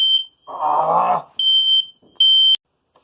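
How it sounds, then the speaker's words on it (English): Smoke alarm beeping in short, piercing high-pitched bursts with gaps between them, while someone working on an A/C unit is heard in a brief vocal burst between the beeps. "Did you hear the smoke alarm?"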